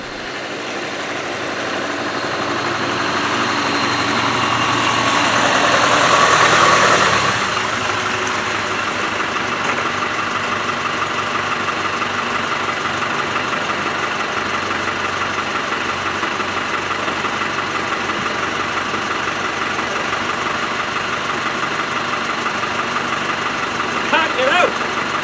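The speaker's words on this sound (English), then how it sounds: "a trip in a 1996 Land Rover Defender all the way from" A 1996 Land Rover Defender engine idling, a steady low rumble with faint vibration that swells slightly early on and then holds even and fairly loud to the end, with no talk.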